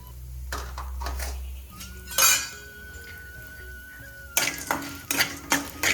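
A metal ladle stirring and scraping in a cooking pot of tempering mustard seeds and lentils, sharp clinks and a short ringing tone, then a burst of rapid clattering strokes near the end.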